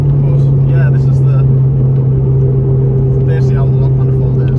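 Turbocharged Honda Civic EP3 with a log exhaust manifold idling steadily up close, a deep constant drone with a higher harmonic hum, while a person talks over it.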